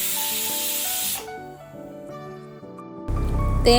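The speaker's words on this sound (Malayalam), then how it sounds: "ആ നേരം കൊണ്ട് പയറും ഇവിടെ വെന്ത് വിസിൽ വന്നിട്ടുണ്ട്" A pressure cooker holding lentils lets out loud bursts of steam, a strong hiss that stops for a stretch of tonal whistling and then hisses again.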